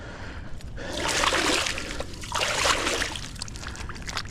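A big fish released back into Braunig Lake thrashes and splashes close by in two distinct bursts of sloshing water, separated by a brief lull, with light trickling in between.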